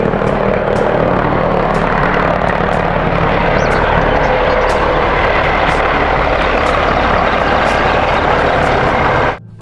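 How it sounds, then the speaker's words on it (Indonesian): A toy helicopter whirs with a loud, steady rotor-like drone that holds unbroken before cutting off abruptly at the end. "Di sini ada helikopter."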